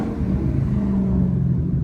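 A Dodge Hellcat's loud exhaust rumbles, a deep and steady engine drone heard close for a moment with no talk over it.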